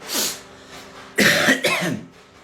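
A short cough, then after a pause a harsher burst of two or three coughs, close and fairly loud, with no talking.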